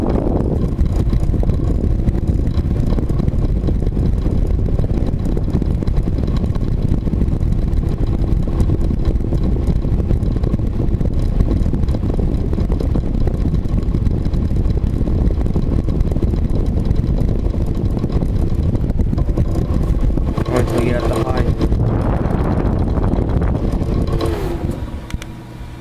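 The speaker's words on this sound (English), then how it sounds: "This one rattles quite a bit, but the motor, other than the rattle, actually runs a little nicer." Vintage Rotron personal fan running on low, its motor giving a steady loud whir with a persistent rattle, continuous and close before dropping off sharply at the very end.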